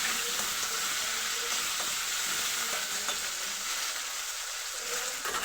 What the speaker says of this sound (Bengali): আলুগুলো এবার লাল লাল করে ভেজে নেবো।